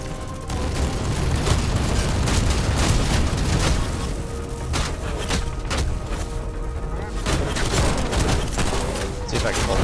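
Rapid bursts of turret fire against gunships in the video game Spacelords keep hammering for the whole stretch, mixed with booms and explosions in a dense, loud barrage, with a voice talking over the action.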